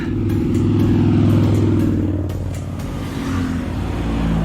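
Motorcycles climbing the mountain road up Jebel Jais in the UAE, engines revving loudly and close as one passes and accelerates, the tone shifting up, then settling into a steady rumble.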